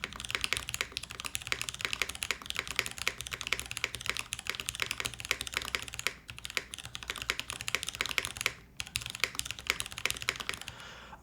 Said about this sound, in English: I haven't finished typing on it yet. I'm just showing you guys the sound.